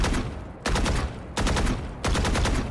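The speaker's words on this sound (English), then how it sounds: "Let's practice controlling these first 3 bullets so that they shoot straight and they don't go up." Three bursts of rapid automatic gunfire from a video game during aim practice, each volley a tight rattle of shots separated by brief pauses, loud and close with no talking.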